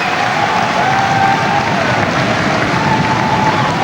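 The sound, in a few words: boxing crowd cheering and applauding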